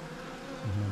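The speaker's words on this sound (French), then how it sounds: "les abeilles vont tournoyer pour découvrir leur environnement, se repérer géographiquement pour pouvoir retourner naturellement à la ruche" Honeybees from a newly caught swarm circle around their hive, a soft insect drone that suddenly swells into a loud, close buzz as one bee passes near.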